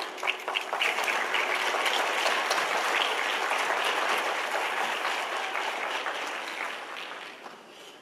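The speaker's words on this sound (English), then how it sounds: "he actually deserves a round of applause" A conference audience breaks into sustained applause, a dense, steady clatter of many hands clapping that swells quickly and then slowly tapers off.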